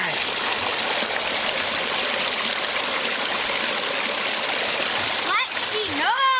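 Water streams and splashes steadily from a homemade pond waterfall, a broad continuous rush close by, with brief whistling or squeaky sounds near the end.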